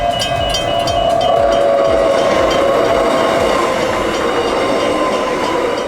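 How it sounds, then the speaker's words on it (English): An A-series electric train on Perth's Fremantle suburban line rolls past, loud and close, with a steady rumble, rhythmic wheel clatter over the rail joints and a faint high whine, no voices. "The Fremantle line is serviced by A-series rolling stock, in use since electrification in 1991."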